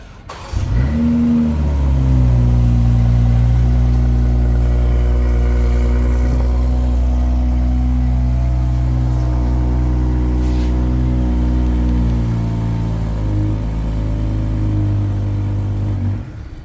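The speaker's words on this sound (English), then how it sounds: "a very nice exhaust sound, not too aggressive on this model, but still sounding very nice" A 2023 BMW X6 xDrive40i idles loud and close with a deep, steady exhaust drone that swells slightly as it revs, then settles back to idle near the end, with no voices.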